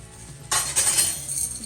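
A metal spoon clinks against a jar or bowl while scooping jerk seasoning in a home kitchen, a bright clattering scrape followed by a few lighter jingling taps, close and alone.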